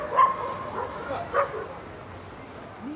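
Dogs bark and yip behind a blue gate, a few short barks near the start and around the middle, then quieter.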